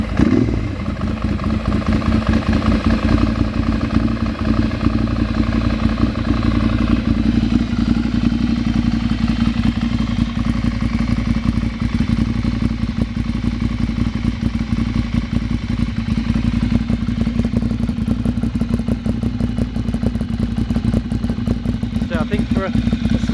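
A Monster 696 Plus motorcycle, a smaller-capacity bike fitted with ABS, runs steadily at close range with a continuous throbbing engine note, while someone talks over it the whole time.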